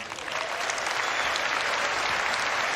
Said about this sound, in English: So Benoit and Ian, you don't have to clap for this one.